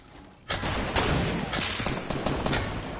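Rapid bursts of gunfire in the Fortnite video game, including a sniper shot, loud and close with overlapping shots over about three seconds and no speech.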